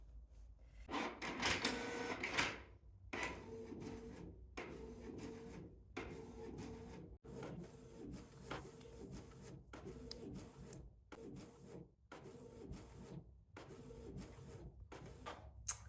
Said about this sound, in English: I have tried to print off the visa documents